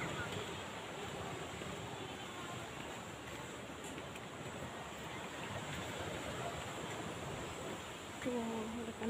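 Steady broadband wash of surf on a beach at Pitas park in Kudat, Sabah, continuous and moderately distant, with wind rumbling on the microphone and a brief voice near the end.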